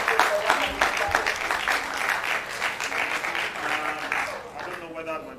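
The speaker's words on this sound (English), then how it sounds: "Please, another round of applause for" A debate hall audience gives a sustained round of applause, dense clapping that holds steady and begins to thin and fade near the end.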